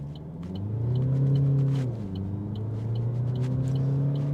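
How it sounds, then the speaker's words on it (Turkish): An Opel Grandland Ultimate SUV engine hums steadily and rises in pitch as it accelerates on a closed road, then drops back briefly before climbing again; a close, continuous engine rumble. "Motor sesine de bakmış olacağız arkadaşlar"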